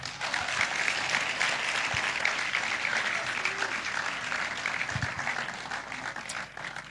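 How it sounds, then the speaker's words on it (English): A church congregation claps during a sermon, a moderate, continuous wash of many hands clapping in a large room, steady throughout with a few low thumps underneath. "Clap if you're not angry."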